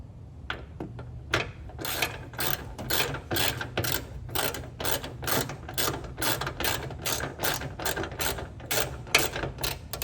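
A ratchet clicks rapidly and repeatedly, close and clear, as a hood strut bracket bolt on a 2024 Toyota Land Cruiser is tightened in a steady series of short bursts.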